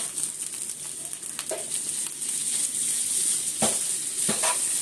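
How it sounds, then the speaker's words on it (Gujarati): Fenugreek leaves sauté in a little oil in a pan, giving a steady close sizzle with a few soft stirring scrapes throughout. "થોડુંક જ તેલ નાખ્યું છે, બહુ નહીં નાખ્યું, ખાલી સોટે થાય એટલું"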